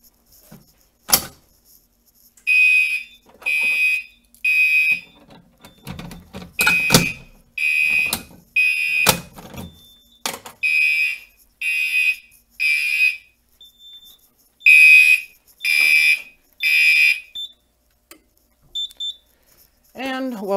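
A fire alarm on a Simplex 4010 panel under test sounds in repeated loud electronic bursts, coming in rhythmic groups of pulses with short gaps, along with a few sharp clicks and thumps nearby.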